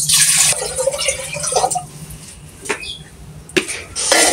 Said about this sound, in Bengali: এই হাঁড়িতে আমি পানি দিয়ে দিচ্ছি।